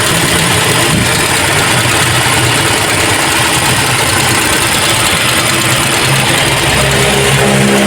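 Toyota Revo engine idling close by, a loud, continuous mechanical rumble with a steady chugging texture and faint higher whine, with no talking.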